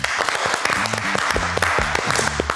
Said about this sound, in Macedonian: Еден голем аплауз ве молам.